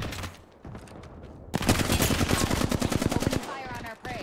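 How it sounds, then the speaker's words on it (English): Apex Legends gunfire: after a quieter stretch, a dense, loud burst of rapid automatic shots lasting about two seconds, close and sharp, with a little game sound around it. "Opening fire on our prey."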